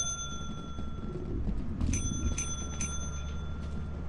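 A bell clicked in a horror video game rings several times in quick succession, bright metallic dings repeating over a low game hum with no talking.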